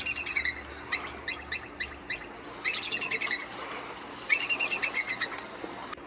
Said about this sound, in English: And bald eagles chirping away is a lot of fun as well.